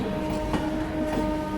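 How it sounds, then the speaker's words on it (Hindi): A passenger train on the Varanasi to Gandhinagar route rolls along the rails as it picks up speed, a steady loud rumble with a faint rhythmic clatter, heard from inside the carriage and with no talking. "तो यहाँ से ट्रेन की रफ्तार जो है वो बढ़ने वाली है।"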